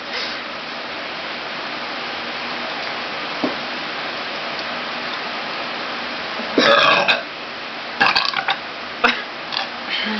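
A person burps after eating a corndog, several short, rough eructations rising over steady background noise, close to the microphone and spaced a second or two apart.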